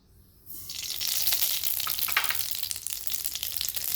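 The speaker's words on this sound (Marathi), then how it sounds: "मोहरी चांगली तडतडत आहे।" Mustard seeds crackle and sizzle in hot oil in a kadhai, beginning with a sudden onset after a brief quiet moment and then holding a bright, dense spitting sizzle close by.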